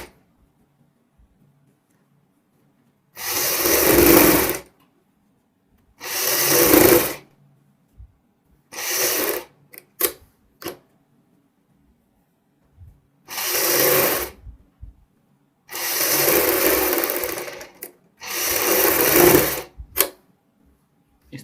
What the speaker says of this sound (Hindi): गले को अंदर की साइड इस तरीके से फोल्ड करते हुए ऊपर एक पैर की सिलाई लगानी है